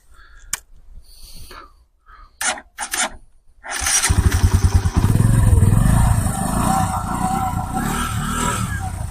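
A motorcycle engine is kicked over a few times with short clicks and sputters, then catches and settles into a loud, steady close idle.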